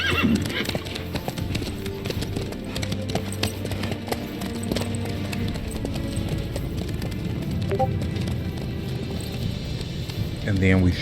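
A horse gallops with rhythmic clip-clop hoofbeats and lets out whinnying neighs in The Witcher 3 video game, loud and continuous under voices throughout.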